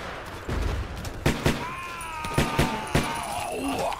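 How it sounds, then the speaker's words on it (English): Machine gun fire in Battlefield 1942 cracks out as a handful of sharp, loud shots spaced irregularly over a few seconds, with a thin ringing whine and muffled battlefield noise between them. "Gotta reload my little machine gun."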